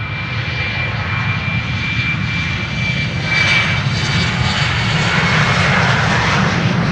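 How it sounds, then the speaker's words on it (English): An Embraer 190 jet at Amsterdam Schiphol Airport roars close by, a loud sustained engine rush with a thin high whine, swelling slightly midway with no talk. "A very special Embraer 190, which you hardly ever see over here"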